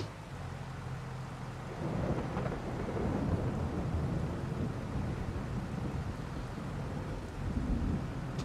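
Video game weather of steady rain with rolling thunder, a continuous wash of noise that swells into a deeper rumble after a couple of seconds and holds, heard alone without talk.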